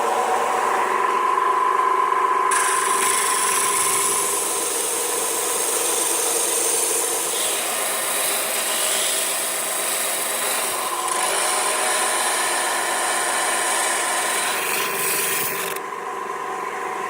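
A belt sander runs continuously on wood with a steady, close, abrasive rasping hum for the whole stretch, and no one speaks.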